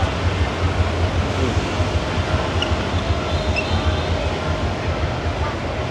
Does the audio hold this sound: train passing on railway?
yes